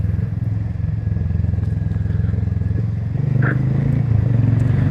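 A motorcycle rides over a rough mountain road toward Chitkul, its engine a steady low drone with rattling and clatter from the bumpy surface throughout, close and fairly loud.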